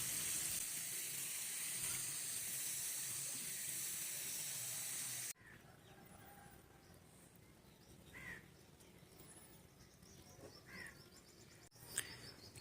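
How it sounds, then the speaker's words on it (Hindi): Water from a shower head sprinkled gently over potted portulaca cuttings, a steady hissing spray for about five seconds that then stops abruptly, leaving faint, quiet background sounds. "शावर की मदद से आपने पानी देना है,"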